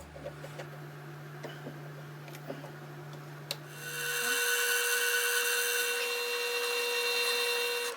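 Scrap piece being cut down half an inch for a Y-axis stop on a PM 728V-T mill setup: faint scraping strokes, then a loud steady high-pitched machine cutting whine takes over midway and continues to the end.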